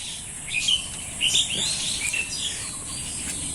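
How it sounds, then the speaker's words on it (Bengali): Bright bird chirps and short tweets come in a few bursts in a netted fruit orchard, over a soft steady background hum, moderately close, no talking. "পাখির শব্দ হয়তো আপনারা শুনতে পাচ্ছেন।"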